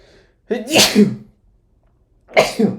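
Two sharp sneezes brought on by allergies, the first a drawn-out burst and the second following after a short silence, loud and close with no talking in between.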